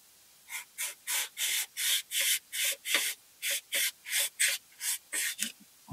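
Abrasive fleece wrapped over a spatula scrubs into the cylinder fins of a BMW R100 GS motorcycle engine, making about a dozen rhythmic, raspy strokes in a steady back-and-forth pattern, close and alone.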